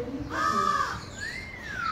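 A pied crow at a bird park gives a harsh, nasal caw close by, followed by a thinner rising and falling call, with faint background murmur throughout.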